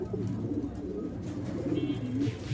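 Pigeons coo continuously in a loft of mixed local and foreign breeds, with a male calling among them, low and steady throughout.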